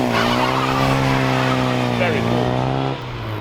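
Cars launch from the start line at an autosolo event, engines revving hard with rising tones and a touch of tire noise, loud and close, while someone speaks briefly over it.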